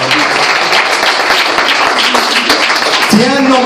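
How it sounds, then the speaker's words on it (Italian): An audience at a birthday party entertainment claps in loud, dense, continuous applause from start to finish, with a voice rising briefly near the end. "un bel applauso, eh!"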